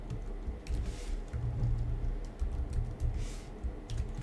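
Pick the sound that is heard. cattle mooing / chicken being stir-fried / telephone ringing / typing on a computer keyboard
typing on a computer keyboard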